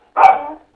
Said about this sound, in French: Non, c'est le chien.